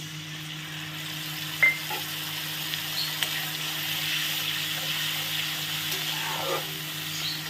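Ginger and garlic masala paste fries in a pan with a continuous soft sizzle, broken by a few light clinks and scrapes of stirring.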